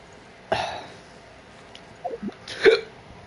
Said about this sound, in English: Ooh, the hiccups are real,